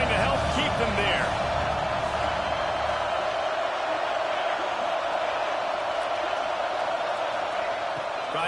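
A college football stadium crowd roars in a constant, broad wash of cheering during an Oregon vs USC game, heard from a distance and sustained without a break, while a commentator talks over it.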